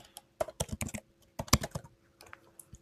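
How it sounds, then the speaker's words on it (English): A computer keyboard clicks in quick, uneven bursts of keystrokes, close and crisp, with short pauses between runs as a website address is entered. No one speaks. "we can type in our website"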